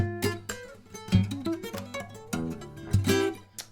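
Percussive acoustic guitar playing part of a song, with sharp slaps and taps over plucked chords and bass notes in a steady groove, close and clear with no talking.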